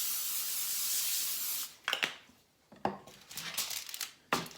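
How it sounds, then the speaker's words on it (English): Cooking spray hisses steadily onto a baking sheet for about two seconds, then stops, followed by light clinks and taps of kitchenware being handled nearby. "So I'm just gonna spray the baking sheet a little bit"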